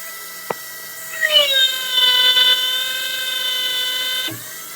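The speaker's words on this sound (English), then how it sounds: "So I'm going to hit the hydro motor, and then I'm going to just operate it." Hydraulic motor of a 2403PRX Auto Crane whining up to a steady high-pitched drone as the crane operates, starting after a sharp click and holding for several seconds before stopping abruptly with a clunk.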